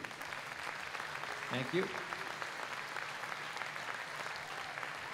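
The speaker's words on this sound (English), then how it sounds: "give a round of applause to the leadership" An audience at a school percussion night applauds the band leadership with a steady, moderately distant patter of many hands, while a brief spoken voice cuts through midway.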